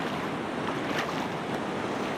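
Steady broadband rush of water pouring over a spillway, continuous and fairly loud with no voices, a constant roar like surf or wind.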